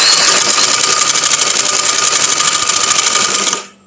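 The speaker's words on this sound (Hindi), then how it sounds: "मैं एक पाँव की सिलाई लगा रही हूँ।" A sewing machine stitches a seam in fabric at home, a loud, fast, steady mechanical whirring rattle running continuously for over three seconds before stopping abruptly.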